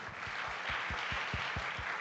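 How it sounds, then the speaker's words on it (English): Conference attendees at a Canadian startup summit give a soft round of applause, a muted blur of many hands that stays even throughout, with no speech. "Another round of applause,"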